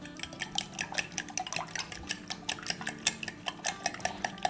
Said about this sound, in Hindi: 5 अंडे। अब इसको फेंट लेते हैं।